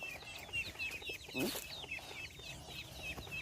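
Chickens cluck and chirp in short, repeated calls close by, with a brief louder rustle partway through and steady farmyard background.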